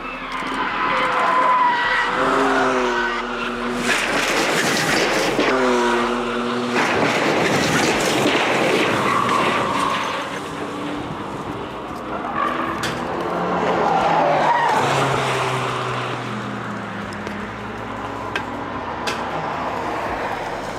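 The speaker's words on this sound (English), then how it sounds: "BMW M3 drift fail." BMW M3 with a loud straight-piped exhaust drifting at the Nürburgring, engine roaring continuously with tires skidding and squealing, loud and close, shifting pitch as it slides; no talk.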